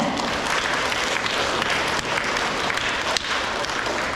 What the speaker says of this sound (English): Now we can clap for them.